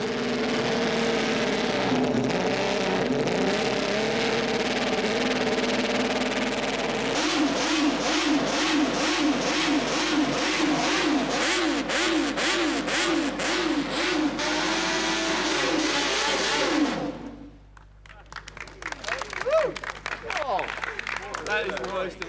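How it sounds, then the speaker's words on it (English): A historic 1960s Honda six-cylinder racing motorcycle revs hard, rising and falling high-pitched engine howls in quick bursts over a steady drone, then cutting off abruptly, with someone speaking over it. "like this historic 6-cylinder bike from the 1960s"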